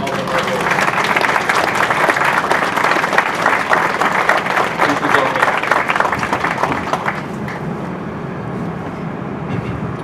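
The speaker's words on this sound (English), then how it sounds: "I'd like to give them a round of applause for all their hard work." A crowd at a military change of command ceremony claps in a sustained round of applause, loud and dense before thinning and fading near the end, with a low hum underneath.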